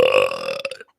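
A single loud, close human belch, drawn out for most of a second with a croaking, voiced tone before cutting off abruptly.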